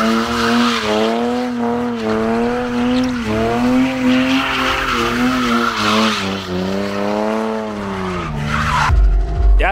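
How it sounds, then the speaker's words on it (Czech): A BMW E36 is driven hard with prolonged, loud tire squeal that wavers in pitch over the engine, ending with a sharp burst of noise. "a moje auto jede."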